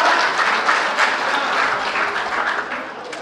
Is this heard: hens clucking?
no